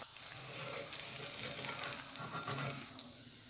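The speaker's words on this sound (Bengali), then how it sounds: "আর আমার একটি চপ ভাজা শেষ, এখন আমি এটাকে উঠিয়ে রাখছি।" Egg and potato chops frying in hot oil, a steady close sizzle with small crackling pops throughout, no voices.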